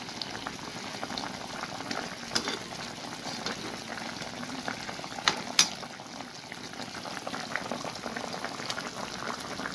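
A pot of sugar syrup at a steady rolling boil, bubbling close up, with a few sharper pops breaking through. No one speaks.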